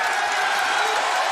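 Hometown arena crowd at an AEW Dynamite wrestling match in Tacoma, a dense, roaring wash of cheering that holds steady and loud with no break.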